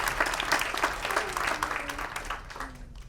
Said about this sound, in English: let's give you a rousing round of applause